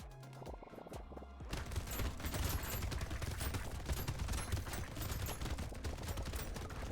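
Rapid chain gun fire in the video game Brotato, a dense, continuous stream of small shots rattling loudly after a short quieter intro.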